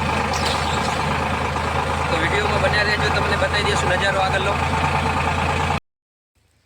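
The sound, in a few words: tractor engine running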